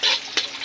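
Garlic sautéing in a pan, with short bursts of sizzle and a few quick stirring scrapes in rapid succession.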